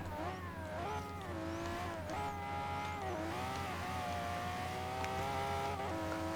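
An Aston Martin DB11 tuned to 1,000 horsepower races at around 200 mph in Forza Horizon 3. Its engine holds a steady, loud, high-revving drone for the whole stretch, with faint tire noise on top.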